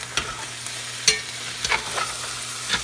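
Meat for pork steak and sausage sizzles in a pan turned up to high heat, a steady frying crackle with a few sharp stirring scrapes and clicks, close by.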